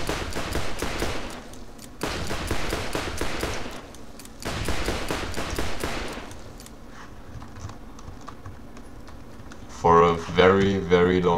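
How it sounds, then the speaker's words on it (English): Defiler revolver from Borderlands firing in three long sustained bursts of rapid shots, loud and close, followed by quieter game noise and a brief tonal flourish near the end. "So I can just shoot on like that because I have infinite ammo."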